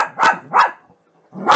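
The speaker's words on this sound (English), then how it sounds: "Don't mind me, that's just my dog barking." A dog barks three times, loud and close, with a short pause before the last bark.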